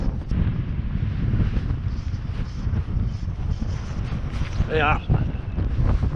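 Gusty wind buffeting the microphone beside a UK stillwater lake during fly fishing, a constant loud low roar throughout, with a brief voice heard partway through.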